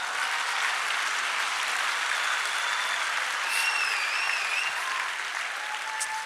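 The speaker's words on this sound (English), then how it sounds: "give yourself a nice round of applause for that" A seated audience applauds steadily for about six seconds, a dense even patter of many hands clapping with no voices over it.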